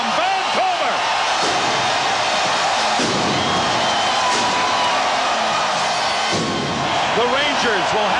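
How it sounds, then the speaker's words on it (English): A Vancouver arena crowd roars and cheers at a Stanley Cup Finals hockey game, a dense sustained wall of noise with whoops, the home fans celebrating a win throughout, under a loud broadcast-style mix. "Listen to the crowd from Vancouver."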